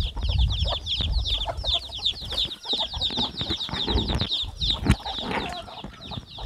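Farmyard chickens cluck and squawk close by in a busy, continuous chorus, with wings flapping and a person calling them over the flock.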